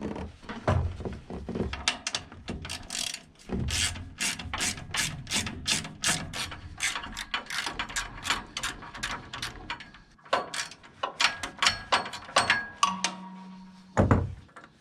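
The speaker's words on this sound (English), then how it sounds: "Just got to loosen off the bottom, and we'll get the new bushings in here." A ratchet wrench loosens the bottom bolts on a Woodland Mills sawmill post during a nylon bushing install, giving close, repeated bursts of rapid clicking separated by short pauses, with no talk.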